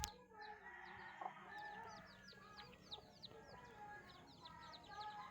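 Soft, close clucking and chirpy calls from a rooster held in hand, repeating in quick runs, over a quiet background hum.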